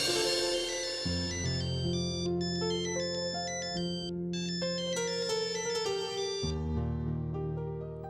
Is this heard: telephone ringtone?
yes